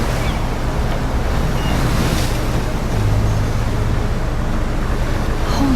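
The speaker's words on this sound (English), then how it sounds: "Ouais, c'est vraiment une grosse tempête." Storm waves crash and roar beneath a steady gusting wind near a lighthouse in Life is Strange, a continuous loud surf wash with no let-up.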